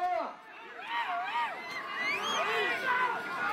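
Spectators cheer at an Ongole bull pulling race, a continuous crowd roar and babble heard throughout beneath a loud voice speaking close by.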